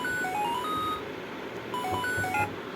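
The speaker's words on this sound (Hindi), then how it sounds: "इसकी रिंगटोन काफ़ी अच्छी है, चलो उठाते हैं।" A phone ringtone in Pokémon Black plays as a short electronic melody of clear beeping notes, repeating its tune over a soft background hum.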